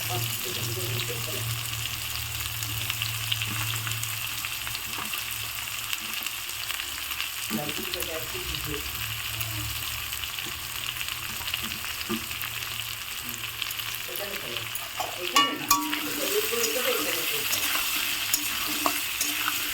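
Boiled potatoes and onions frying in a pan for a duck egg curry, with a steady loud sizzle and occasional scraping stirs that grow busier near the end, no voices.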